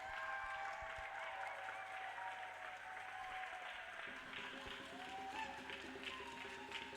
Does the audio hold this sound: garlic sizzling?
no